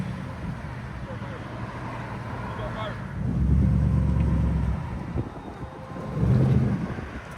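Straight-piped true dual exhaust on a Lexus LS 430 with a 4.3L V8, deep rumbling swells rising twice over wind-buffeted background, with a voice speaking briefly.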